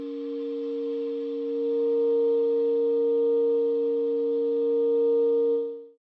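A sampled clarinet from a sample library holds one steady multiphonic, a sustained buzzy chord of several tones that swells slightly and then cuts off after about six seconds, with no other sound around it.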